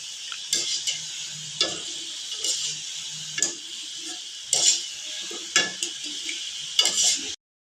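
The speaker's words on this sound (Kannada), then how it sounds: "ಈ ಥರ ಸಣ್ಣ ಉರಿ ಇಟ್ಟು ಕರ್ಕೋಬೇಕು ಇವನ್ನ." Kodubale dough rings fry gently in oil on a low flame. Soft sizzling sits under repeated scraping and stirring strokes from a utensil against the pan, recurring every second or so.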